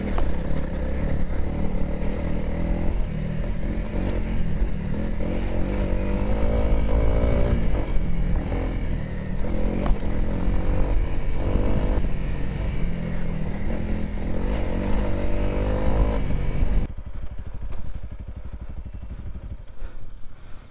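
Honda CRF300L motorcycle ridden on snowy mountain roads in Romania, a continuous close engine drone with clattering and scraping, dropping to a quieter idle near the end.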